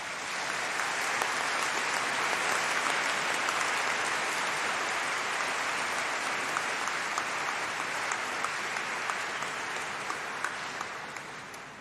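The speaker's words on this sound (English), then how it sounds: "Can we give them a round of applause of thanks?" Audience at a university graduation degree ceremony for the College of Arts and Law applauds steadily, a dense sustained wash of many hands clapping that holds evenly for the whole stretch and fades slightly at the end.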